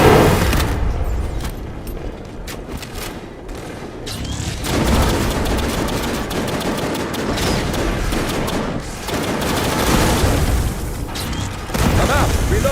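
Grenade blast erupting amid a sustained firefight in the sci-fi shooter Aliens: Fireteam Elite, heavy booms and rattling gunfire layered with dense combat noise throughout, loud and close.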